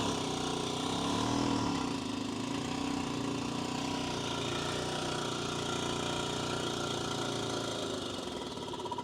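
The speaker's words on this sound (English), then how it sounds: "let's now see if the compressor will run" Compressor motor aboard an aluminum catamaran running with a steady mid-pitched hum and drone, continuous throughout at moderate level, with no talking.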